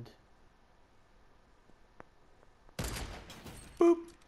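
Gunfire in the Fortnite video game: a quiet stretch of faint ticks, then a sudden loud burst of rapid shots and explosive noise, followed by a short tonal blip near the end.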